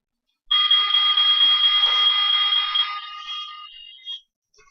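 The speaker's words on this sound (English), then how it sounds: "If you don't know what a smoke detector sounds like," A loud, shrill electronic smoke detector alarm tone sounds continuously for several seconds after silence, then wavers and cuts off with a short final burst.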